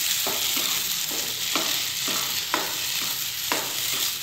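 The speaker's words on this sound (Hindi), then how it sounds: "अच्छे से मिक्स करेंगे इसको।" A spoon stirs semolina halwa with cardamom powder and dry fruits in a hot pan. Steady frying sizzle runs under scrapes that come about once a second, close and fairly loud.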